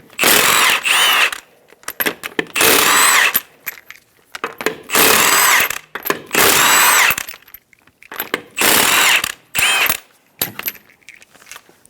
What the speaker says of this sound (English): Using a 19mm socket, remove the 5 lug nuts.